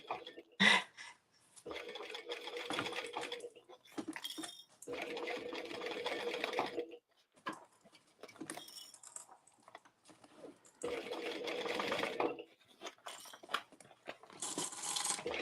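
Sewing machine stitching a bag, several separate bursts of rapid mechanical whirring lasting one to three seconds each, close and clear, separated by pauses filled with small handling clicks.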